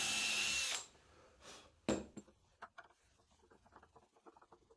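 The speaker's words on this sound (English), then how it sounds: "mark the other two hole locations with the Vicks bit again, and then drill those out as well" A power drill runs loud and steady for under a second drilling hinge screw holes, then stops, followed by scattered light taps and handling clatter.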